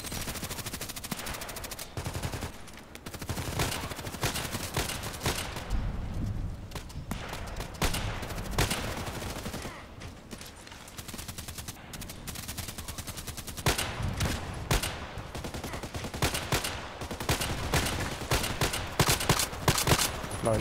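Rapid bursts of gunfire in a sniper video game on an Old Sawmill map, dense machine-gun volleys and single shots repeating almost without pause, loud and close, with brief lulls between clusters.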